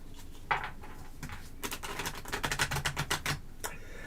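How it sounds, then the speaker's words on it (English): Tarot cards dry-shuffled close by, a dense run of quick crisp riffling clicks in bursts, with a few separate taps before and after. "Dry shuffle one more time."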